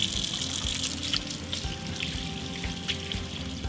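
Tap water runs into a laboratory sink for hand washing, a continuous hissing splash with small irregular spatters throughout, fairly close and steady, with no voices.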